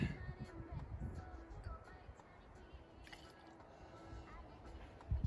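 Angostura bitters pour in a faint, continuous liquid trickle from a bottle with its dasher top removed, close by and low in level, with speech over it.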